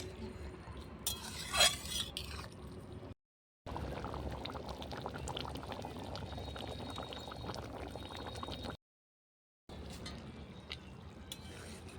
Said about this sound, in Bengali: ঢাকাটা উঠিয়ে নেবো এবার নেড়ে দেবো কচুটা সেদ্ধ হয়ে গেছে